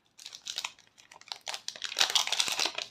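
NBA Hoops trading card packs are torn open, with close crinkly foil wrappers crackling and ripping in irregular bursts that grow louder toward the end.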